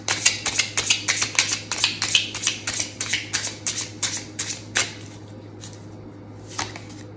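Tarot cards shuffled by hand in a quick run of crisp riffling flicks, close and fairly loud, easing off into a couple of isolated taps near the end with no talking.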